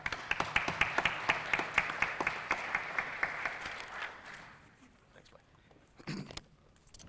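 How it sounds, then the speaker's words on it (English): Applause from a morning legislative panel audience for a delegate, heard as a steady patter of claps for about four seconds that then fades out, followed by quiet room noise and a brief murmur. "let's give a round of applause for good friend, Delegate Sean Hornbuckle from Cabell"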